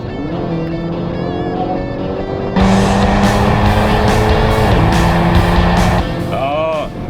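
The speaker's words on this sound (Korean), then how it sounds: "직선 구간으로 완전히 나온 시점에 LGS 눌러서 한번 최대 가속 진행해 보겠습니다." A Hyundai Kona N accelerating at full throttle with its boost function engaged on a straight, the engine note rising loud and strained before an abrupt jump into a harsher, louder roar, heard up close from inside the car.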